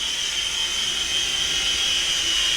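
The brushed electric motors of a SYMA S52H RC military transport helicopter in fast flight give off a steady high whine with a hissing rush. It stays constant and fairly loud the whole time.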